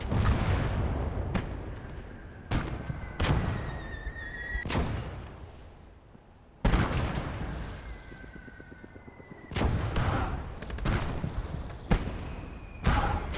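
Mortar rounds fire and land in the World War II strategy game Their Finest Hour, a series of sharp, loud cracks and thumping blasts spaced a second or two apart, each trailing off into a rumbling decay.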